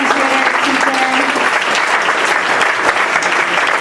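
A school Shark Tank-style event's audience of parents, teachers and students applauds the student presenters with dense, loud, continuous clapping that holds steady from start to finish, close and filling the room.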